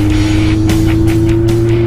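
Loud, steady engine drone of a Z1 motorcycle cruising a smooth road from Cotabato to General Santos, with a constant low hum and rushing wind noise swelling in gusts, no talk.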